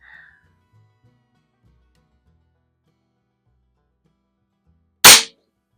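A single sharp crack from a Weihrauch HW50S spring-powered air rifle firing at a target seven yards away, loud and isolated after several seconds of near silence.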